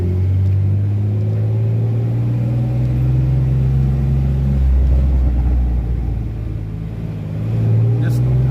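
A 2011 Jeep Wrangler with a newly installed clutch being driven: a loud, close, low engine drone and road rumble that swells as the engine revs up midway, then settles and rises again.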